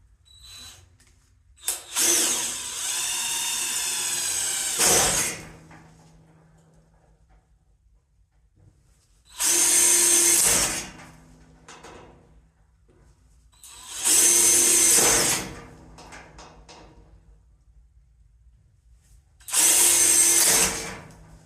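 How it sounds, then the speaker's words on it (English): A power drill whirs in four separate bursts, each lasting a few seconds, with quiet pauses and faint clatter in between. "All right, I'm gonna drill some holes"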